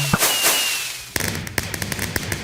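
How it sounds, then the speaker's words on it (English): Minecraft fireworks go off in a blocky stadium: a launch whoosh, then a series of sharp crackling pops and bangs in quick succession, loud and close with no voices. "It's really fun, especially with all these like fireworks and stuff."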